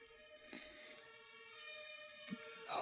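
A siren wails on a Berlin street in the evening, a faint, steady tonal wail sounding over quiet street ambience with a few soft knocks and bumps.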